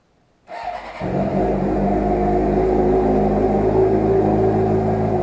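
A motorcycle engine fired up after being fogged for winter storage, catching after a brief crank and settling into a loud, steady idle rumble close by.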